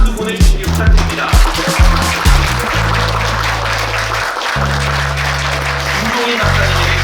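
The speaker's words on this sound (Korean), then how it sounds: "큰 박수 보내주시기 부탁드립니다." A crowd at a Korean political gathering claps in loud, rhythmic bursts, and then a steady low droning sound takes over beneath the noise for the rest of the stretch.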